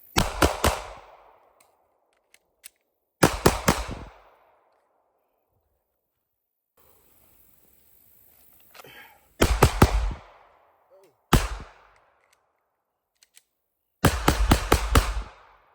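Ruger RXM pistol fired on an outdoor range in rapid strings of shots, several loud, sharp bursts separated by quiet pauses with faint handling noises between them.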